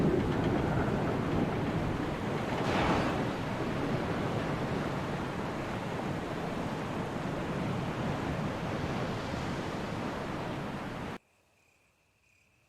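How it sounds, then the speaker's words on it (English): A distant waterfall in the video game Resident Evil 1 produces a steady, moderately loud rushing wash of falling water that holds constant for about eleven seconds before dropping to near silence with a faint tone. "You can hear the sound of a waterfall in the distance."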